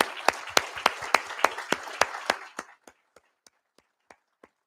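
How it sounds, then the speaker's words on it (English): Conference audience applause: a small group claps in quick rhythmic bursts that thin out after a couple of seconds to a few sparse, spaced claps, close and moderately loud. "we should give a huge round of applause and thanks to our very generous sponsors"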